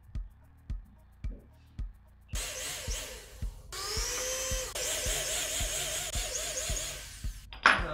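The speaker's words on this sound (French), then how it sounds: "Je vais percer ici le sol de la caisse, et à travers le contreplaqué" A power drill runs in long continuous bursts as it bores down through a van's cargo floor and the plywood laid over it, preceded by several sharp knocks and ending with a loud thump.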